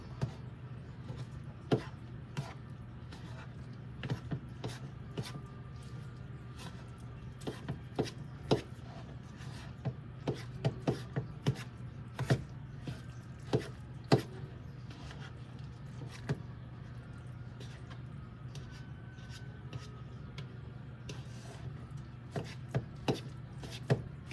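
Salmon patty mixture with Jiffy cornbread mix being stirred in a bowl, a steady run of close, soft clicks and scrapes with a low background hum throughout, no talking.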